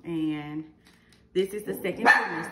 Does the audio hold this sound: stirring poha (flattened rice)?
no